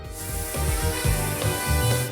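Makeup spray hisses in a short continuous burst, loud and close, with a rubbing texture and slight pulsing over about two seconds, set over a background music bed.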